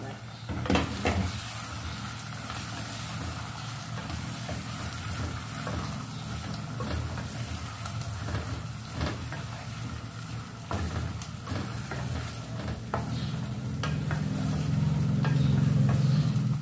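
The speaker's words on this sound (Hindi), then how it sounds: "इसको अच्छे से भून लेंगे।" Chicken frying in a pan for shorba, a loud continuous sizzle heard up close, with scrapes and clatters from stirring at irregular intervals and a low hum that grows toward the end.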